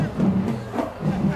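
A high school football crowd at the Beaufort Eagles versus Battery Creek Dolphins game sends up a steady, loud roar of cheering, with a band's tones woven through the din.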